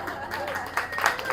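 A stand-up comedy audience claps in a short, lively burst, with a voice heard over the applause.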